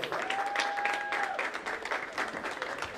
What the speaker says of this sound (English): So can we give a big round of applause?